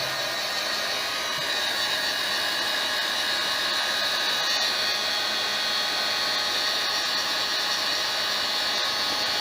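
A heat gun blows a constant loud, hissing roar while heating a motorcycle fuel pipe on a Kawasaki ER-5, steady and close throughout with no talking.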